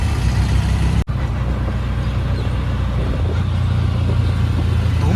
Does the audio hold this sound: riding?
yes